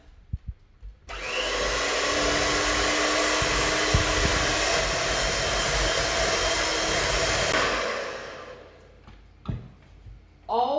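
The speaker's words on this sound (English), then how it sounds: "And then I use my mixer" An electric mixer beats red velvet cake batter in a bowl, giving a steady, loud motor whir that runs for about seven seconds and then cuts off, followed by a few light clatters.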